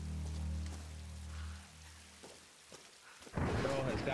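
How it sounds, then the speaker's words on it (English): A thunderstorm in Tomb Raider opens with a low rolling thunder rumble that fades, then a burst of heavy rain pours in loudly near the end. "take shelter from the storm."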